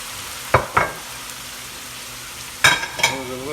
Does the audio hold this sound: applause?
no